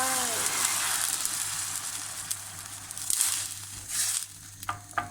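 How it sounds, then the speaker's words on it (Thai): Homemade stock poured into a pot of frozen peas for a sweet pea soup, a steady close hiss and sizzle with small splashes and stirring clinks, no voices. "ใส่น้ำซุปนะคะที่ทำเอาไว้ลงไป"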